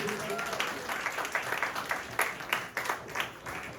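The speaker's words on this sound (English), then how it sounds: "please give her a big round of applause" Guests at a 40th birthday party applaud, a moderate, uneven crowd of claps with distinct individual hand strikes standing out, fairly close, with some voices mixed in.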